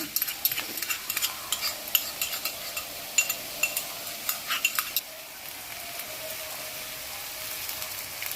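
Ginger garlic paste fries in a pan while a utensil stirs and scrapes it in soft, repeated strokes over a faint, steady sizzle, then just sizzling.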